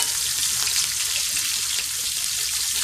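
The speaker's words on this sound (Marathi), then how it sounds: "ह्याच्यातच आपण लसूण टाकायचे" Garlic dropped into hot oil gives a loud, dense, continuous sizzle and crackle, close up and steady throughout, with no voices.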